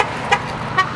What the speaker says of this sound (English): The honking on the street is music to the strikers' ears.